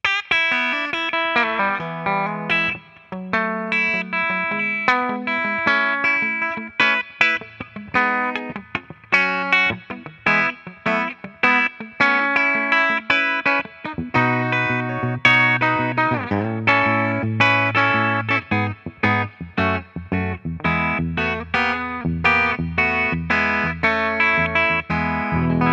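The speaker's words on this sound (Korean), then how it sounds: "아싸리 이렇게 좀 슬로우 템포를 해가지고 칠 때는 좀 약간 이런 묵직한 험버커 소리도 어울릴 수 있다고 좀 봐요" A HEX N400 headless electric guitar through a humbucker pickup and heavy distortion effects plays a slow, weighty riff with chunky palm-muted chords and sustained notes, loud and saturated with a little chorus and echo, no voices.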